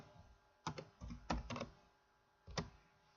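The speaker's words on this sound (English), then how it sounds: "we're going to type in default" Keystrokes on a computer keyboard entering a short word, a few quick bursts of clicks followed by a lone tap after a pause, close and clear with no talking.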